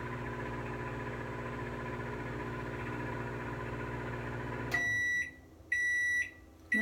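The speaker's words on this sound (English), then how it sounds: "I just sit and I listen to the hum of the microwave and the sounds of the microwave." A microwave oven warming milk hums steadily with a low electrical drone, then stops and gives several loud, sharp beeps in quick succession at close range.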